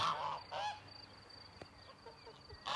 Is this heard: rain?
no